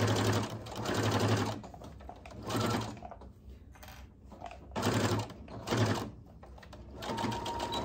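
A sewing machine stitches a 1/4 inch seam in short bursts, running forward then reversing for a back stitch, with pauses between runs.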